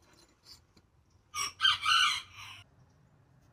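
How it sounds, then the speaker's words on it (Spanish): A rooster crows once at moderate distance, a single loud call lasting about a second against quiet outdoor background. "Miren ese gallito, está todo cantar."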